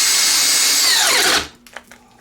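A Teccpo 12-inch brushed cordless drill whines loudly as it bores a 1-inch bit into wood, then its pitch sinks as it stalls and cuts out, leaving a few faint clicks.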